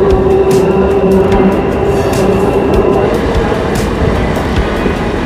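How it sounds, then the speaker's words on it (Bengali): A train at Ranaghat Junction railway station rumbles steadily and loud and close, with faint rail clatter and a soft tonal hum running through the whole stretch. "আমি এই মুহূর্তে রয়েছি রানাঘাট জংশন রেলওয়ে স্টেশনে।"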